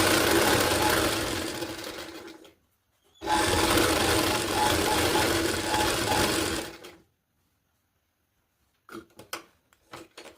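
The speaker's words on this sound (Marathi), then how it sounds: "तर मी आता यांना वन साईड शिवून घेते या पद्धतीने" A sewing machine stitching a saree border onto a child's blouse runs in two loud, steady whirring bursts separated by a short pause, then falls silent before a few brief clicks and taps.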